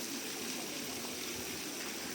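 Water pouring steadily from a spout at Shiva Dham in Nepal, a constant rushing splash at close range with no other sounds.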